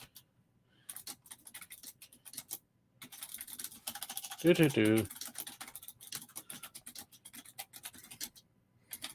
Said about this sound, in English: excuse me while I type for just a moment.